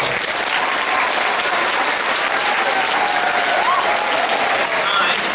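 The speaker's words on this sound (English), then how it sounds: "let's give those students a round of applause as well" An audience at a high school choral concert applauds for students: a sustained, dense wave of clapping from a large crowd that holds at a steady, loud level throughout.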